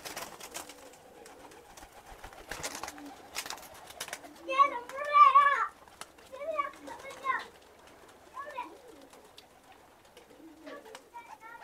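Crested pigeons of various breeds coo in a bursty run of throaty calls, near and moderately loud, mixed with wing flutters and knocking sounds; someone talks at times.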